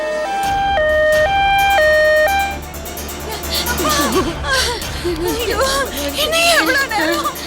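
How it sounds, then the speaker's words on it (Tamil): An ambulance siren in a Tamil drama scene wails in clear alternating two-tone steps at the start, loud and close, then gives way to a busy mix of voices and chatter. "மேடம், ஆம்புலன்ஸ் வந்துருச்சு."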